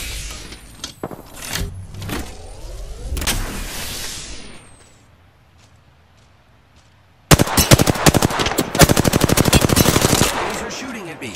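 Automatic gunfire from enemies shooting at the player in a video game, with scattered shots and a whining sweep early on, a quiet lull, then a loud, sustained rapid burst for the last four seconds.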